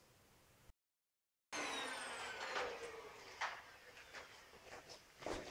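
A Vax vacuum cleaner runs over carpet after a brief silent gap, a loud steady broadband roar with a rising whine and repeated surges as the head is pushed back and forth, nearby and alone.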